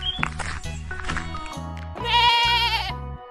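A goat bleats in a quavering, wavering call that rises in the middle and lasts a few seconds, close and alone.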